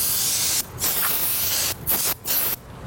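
Several bursts of hissing black spray paint from an aerosol can, close and loud, separated by short pauses, the last burst cut short.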